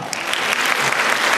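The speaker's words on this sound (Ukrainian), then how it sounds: "Зустрічаємо оплесками Ярослави" Audience applause at a Ukrainian concert evening honoring a philharmonic soloist singer, a dense, steady wash of clapping from a crowd in a hall, loud and continuous throughout.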